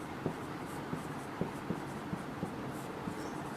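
Chalk or marker writing on a board during a Hindi-medium chemistry lecture, heard as a series of short, sharp taps and strokes at an irregular rhythm over a steady background hiss, with no talking.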